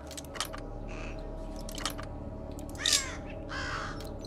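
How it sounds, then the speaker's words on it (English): A crow-like alarm bird in the Thief video game caws in a few harsh calls, loud and close, over a steady game ambience hum, with some faint clicks and taps before the calls. "Failing at picking a lock actually triggers the bird."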